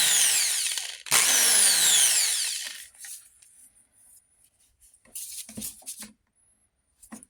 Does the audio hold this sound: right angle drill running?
yes